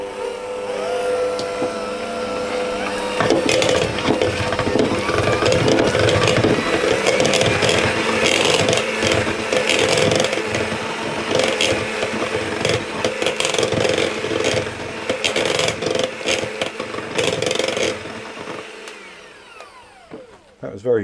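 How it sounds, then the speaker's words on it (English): Electric hand mixer beating butter: a steady, close, whirring motor buzz with rattling and clattering runs almost continuously, then stops near the end. "I'm just going to give that a bit of a mix with the"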